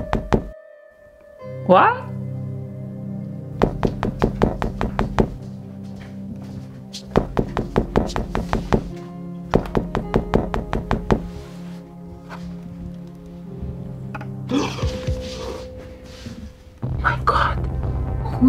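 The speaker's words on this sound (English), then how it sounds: "Who is knocking at our door at night?" Repeated sharp knocks on a house door at night come in several rapid bursts of close, loud raps separated by pauses, with a voice speaking briefly between them.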